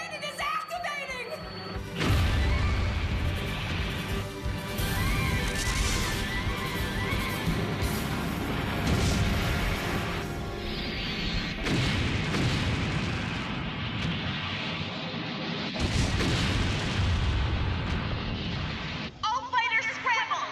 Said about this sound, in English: Sir, the main cannon is activating!